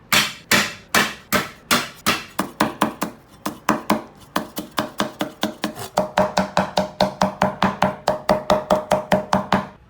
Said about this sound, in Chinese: 接下来我们剁点姜米、蒜米哈